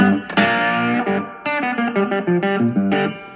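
A cigar box guitar played through a 1963 Fender Reverb, picking a short phrase of loud, ringing notes and chords with a wet, reverberant tail between attacks.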